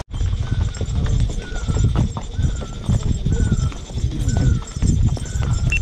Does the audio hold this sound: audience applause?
no